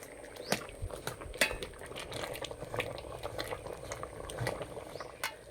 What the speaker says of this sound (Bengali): আলু সিদ্ধ হয়ে গেছে, একটা হাতা নিয়েছি, হাতায় করে ঘুটে দেব।